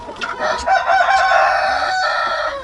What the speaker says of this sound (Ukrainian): Ось вам наглядний приклад, як ведуть себе індички в час, коли вони хочуть уже щоб їх покривали самці.